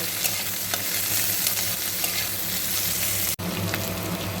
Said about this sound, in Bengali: পেঁয়াজগুলোকে আমি ব্রাউন করে রসুন আর লঙ্কার সঙ্গে ভালো করে ভেজে নেব